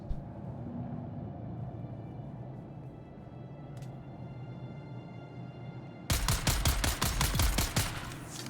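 Gunfire in the survival game Dune Awakening: after several seconds of quiet ambient hum, a loud, rapid burst of repeated shots rings out close by and continues to the end.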